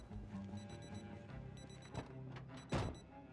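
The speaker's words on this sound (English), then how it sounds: "They're gonna hear that alarm going off." An alarm rings in the zombie survival game Project Zomboid, a steady repeating electronic beeping pattern over low game ambience, moderately loud, with a brief thud near the end.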